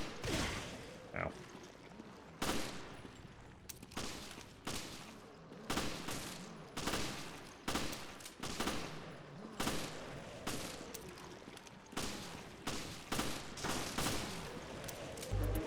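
Gunfire in the Resident Evil video game, a steady string of loud, repeated shots at roughly regular intervals, each a sharp broadband crack with a short tail, over faint background game sound.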